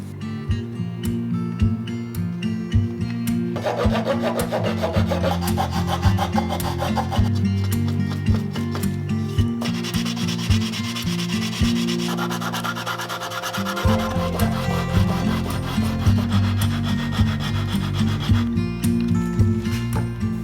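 Hand saw cutting through the ends of a wooden wedge fitted against an acoustic guitar's end block, continuous rasping strokes, loud and close, with no voices.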